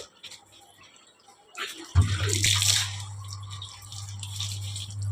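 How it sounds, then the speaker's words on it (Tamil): A young girl rinsing clothes in water, with splashing and sloshing that starts suddenly and continues steadily and fairly close, alone without talk. "இதான் எங்கள் பாப்பா துணியை அலசி போடுது"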